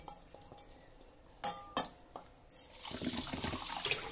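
A few sharp clinks of kitchen utensils, then water is poured steadily into a pressure cooker holding rice for bisi bele bath, a close, rushing splash that continues to the end with no talking.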